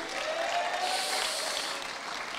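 A church congregation applauds and cheers in a sustained, even wash of clapping, with faint whoops rising over the crowd.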